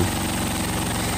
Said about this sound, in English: adjust the carburetor a little bit more so the engine will idle down more